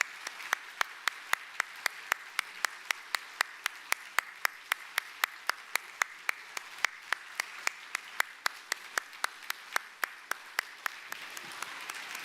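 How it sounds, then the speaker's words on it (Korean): A church congregation applauding during a Sunday service, heard as a rhythmic, evenly paced clapping that continues steadily and fairly close with room ambience. "우리 목사님 나갈 때까지 계속 박수 쳐주시면 감사하겠습니다."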